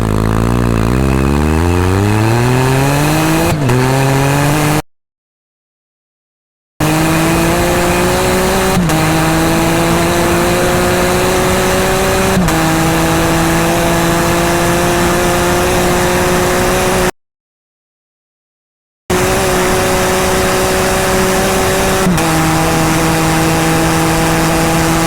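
A Can-Am with an RLS catalytic converter delete driving on a half-mile track, its engine loud and close, revving up through gears and holding steady tones, with two short silent gaps.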